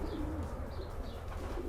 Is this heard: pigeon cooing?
yes